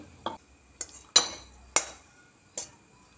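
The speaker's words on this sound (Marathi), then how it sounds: "आता मी हे लोणचं ह्या काचेच्या भांड्यात काढून घेते" A spoon scrapes and clinks against a glass jar five times at uneven intervals while raw amla pickle is spooned in, with quiet pauses between the knocks.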